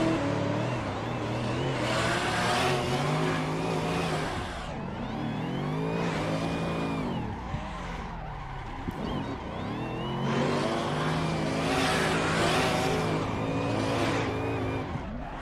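Car sliding sideways in a racing video game, with loud tire squeal and a revving engine in repeated bursts that swell, fade and return, pitch sweeping up and down as the car skids.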